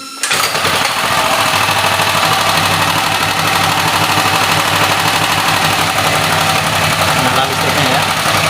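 Generator engine, run without its AVR, starts and settles into a loud, steady, continuous running drone with a rough knocking texture that holds to the end.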